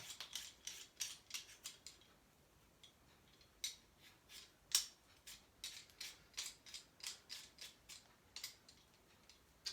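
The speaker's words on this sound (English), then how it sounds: "So you peel all your vegetables and pop into the slow cooker." Crisp, rhythmic scraping strokes of a vegetable peeler stripping vegetables for a slow-cooker beef or vegetable stew, close and fairly quiet, each short rasp repeating steadily with brief pauses between strokes and no talking.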